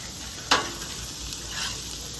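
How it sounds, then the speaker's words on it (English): Olive and vegetable oil heating on a Blackstone griddle gives a steady, moderate sizzling hiss, with one sharp clink or scrape near the start. "Lay that olive oil down with the vegetable oil. Get that nice and hot here."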